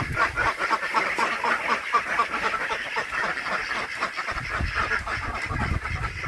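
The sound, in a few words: restless ducks quacking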